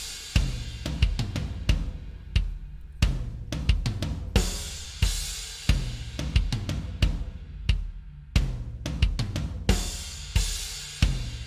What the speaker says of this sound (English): this is what this drum kit sounds like without any mixing